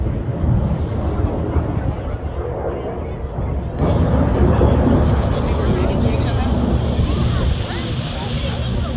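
P-51 Mustang flying at the San Francisco Fleet Week air show, a continuous broadband engine roar mixed with wind buffeting on the microphone, steady and fairly loud, with spectators' voices faintly present.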